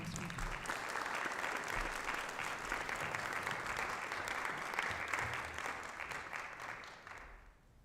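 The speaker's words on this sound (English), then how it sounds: "Give her a warm round of applause, please." Sustained applause from a business conference audience fills the room as a speaker is welcomed to the stage, steady and dense throughout before thinning slightly at the end.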